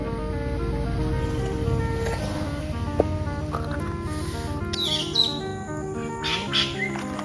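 Birds chirp and tweet among rocks near a hillside house, the calls thin and scattered over a steady, low background hum with a few louder bursts toward the end.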